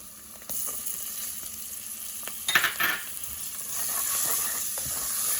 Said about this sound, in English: Now I'm going to add the tomato.